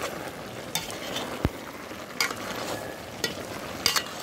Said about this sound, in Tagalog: So ayan, kumukulo-kulo na po.